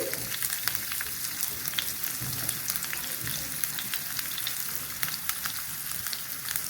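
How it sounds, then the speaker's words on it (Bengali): Chopped onions sizzle in hot oil with cinnamon, cardamom and bay leaves for a vegetable khichuri, a dense continuous crackle with small pops, close and fairly loud, with no voices. "এই পেঁয়াজ কুচুগুলো এখন দিয়ে দিচ্ছি"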